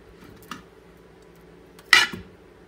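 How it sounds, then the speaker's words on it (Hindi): Butter dropped into a pan while making potato hash browns: a small clink, then a short, louder scraping clatter of metal, close by with no talking. "ये पैन में हम लोग मक्खन डाल देंगे"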